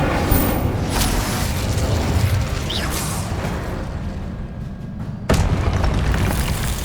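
Confringo spell blasting in Hogwarts Legacy combat, a loud sustained booming rumble with a sharp burst near the end, dense and continuous throughout.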